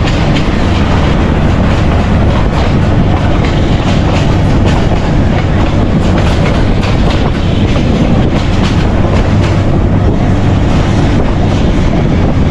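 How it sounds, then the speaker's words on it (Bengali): Chittagong–Dhaka Mail train, likely the Karnaphuli from Chittagong, held near a station platform: a loud, close, continuous rail rumble with clattering wheels and wind buffeting, no voices. "দেখেন এটা চট্টগ্রাম ঢাকা মেল, এটা মনে হয় কর্ণফুলী, চট্টগ্রাম থেকে আসছে কর্ণফুলী।"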